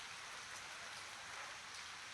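Heavy monsoon rain pours steadily in a village, a continuous even hiss with no breaks, fairly faint and heard alone.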